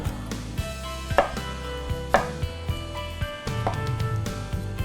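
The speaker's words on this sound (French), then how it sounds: "Je vais couper mes patates." Potatoes chopped on a cutting board for a salmon and pumpkin soup: several sharp, separate knife knocks spaced about a second apart, over steady background music.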